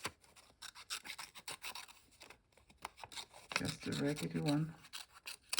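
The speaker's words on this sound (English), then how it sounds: "I'll see if I can cut a circle out" Scissors cut a circle out of paper for stamping, a series of rasping, rubbing snips that grow louder and denser toward the end, with a voice talking briefly.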